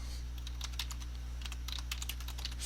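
Computer keyboard typing while writing CSS code: rapid, uneven keystroke clicks in bursts, close and clear over a steady low electrical hum, with no talking.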